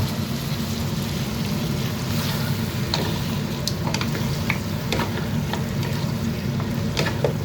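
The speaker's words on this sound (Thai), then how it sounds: "ผัดให้ตัว ซี่โครงหมูของเราเข้ากับสามเกลือที่เราผัดไปก่อนหน้านี้" Marinated pork ribs stir-fry in a pan with a loud, dense, continuous sizzle, punctuated by scraping stirring strokes and crackles, close up with no voices.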